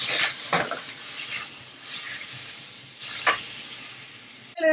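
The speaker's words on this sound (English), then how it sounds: "Now we're going to add the meat to the onion and let them fry a little bit together." Onion and meat sizzle together in a frying pan for a Persian celery stew, a soft steady hiss broken by a few louder bursts of stirring.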